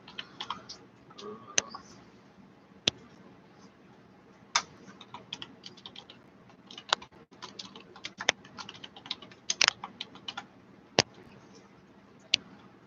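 Keys clack on a computer keyboard in quiet, irregular bursts of typing, with sharper isolated key strikes scattered among softer taps, close and alone.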